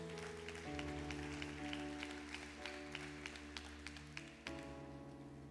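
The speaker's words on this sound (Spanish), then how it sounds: "Denle un fuerte aplauso al Señor" A church congregation claps for the Lord over sustained keyboard or organ chords, a moderately faint, scattered applause with distinct individual claps riding on the music.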